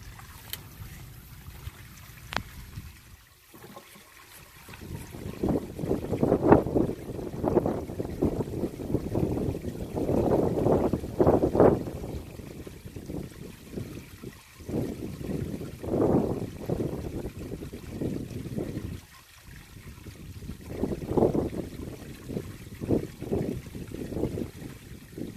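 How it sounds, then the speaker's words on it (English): Black waste tank on an RV drains through a hose after a stiff valve is pulled open, giving a steady rushing, gurgling flow with surging pulses and brief dips, fairly loud and close, with no talking. "we're gonna dump the tank now"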